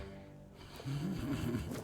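A sleeping character in the Tainted Grail: Fall of Avalon video game snores, a low rumbling, wavering breath that rises after a quiet start and continues over faint background ambience.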